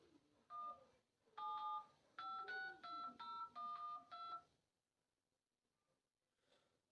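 Phone keypad tones sound as a number is dialed on a mobile phone, a string of clear beeps in a steady run, some grouped quickly together, then fading to near silence.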